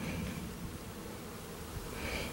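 Bees buzz around a large hive beside a rising hillside trail, a steady low drone that hums continuously and fairly faintly with no voices over it.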